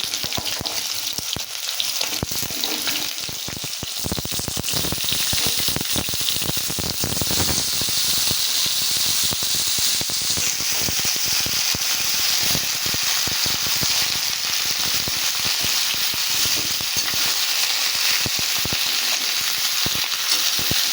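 Chopped bottle gourd tipped into a pan of fried prawns, raising a loud, steady sizzle and hiss of hot oil that runs continuously, with faint stirring crackles throughout.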